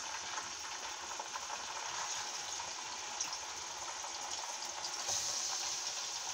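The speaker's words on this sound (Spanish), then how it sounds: "Vamos a sofreír nuestro hígado." Two pounds of cleaned liver sauté in oil in a pan, giving a continuous, even hiss of frying at a fairly quiet level, with no talk.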